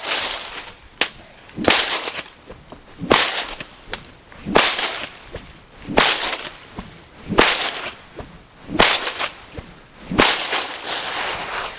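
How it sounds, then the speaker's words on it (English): A bullwhip is cracked repeatedly near a horse in an open space. About eight sharp, loud cracks come at a steady rhythm, each one led by a swishing whoosh. "So when I apply the bull whip also,"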